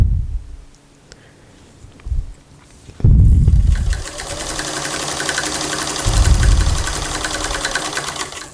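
A home sewing machine stitching a housedress or nightgown: after a few soft handling knocks, the motor kicks in with a loud, close, steady whirring hum and a rapid needle clatter that runs continuously to the end.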